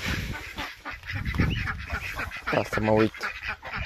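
Domestic ducks quacking by their nest in a Romanian farmyard, several nasal honking calls at close range mixed with a person talking nearby.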